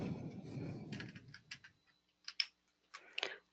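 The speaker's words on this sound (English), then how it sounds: "My typing skills are obviously awesome." Quick bursts of keystrokes on a computer keyboard, sparse and close, with short pauses between the clusters of taps after a brief low rumble at the start.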